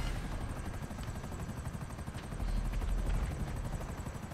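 A helicopter in the video game GTA V Online hovers nearby with a loud, continuous rotor chop and low engine rumble that grows slightly stronger midway, with no talk over it.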